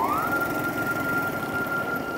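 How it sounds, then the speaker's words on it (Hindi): A Sindh government ambulance passes along a Karachi road near a BRT construction site, its siren holding a loud, steady wail above constant traffic and engine rumble. "सिंध गवर्नमेंट की एम्बुलेंस गुजर रही है"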